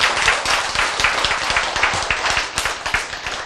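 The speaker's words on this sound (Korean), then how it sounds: "박수." Audience applause at a Korean lecture or sermon, dense rapid hand claps from a crowd, steady and fairly loud throughout.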